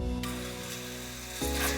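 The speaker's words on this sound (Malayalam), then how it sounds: "നമുക്കിതാ തൈരിലോട്ട് വറവ് ചേർത്ത് കൊടുക്കാം" Hot Kerala-style tempering poured into yogurt for a dahi baingan curry, giving a brief close sizzle that fades and then rises again toward the end, with no talking.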